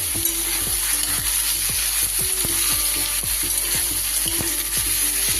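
Snake gourd fries in a pan with a constant close sizzle, while a spoon stirs in a regular rhythm of scraping strokes throughout, with no voices.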